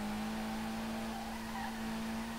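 Car drifting at full throttle alongside a wall in the SLRR racing game, a steady engine drone with a strong constant tone and faint tire noise, continuous and loud throughout.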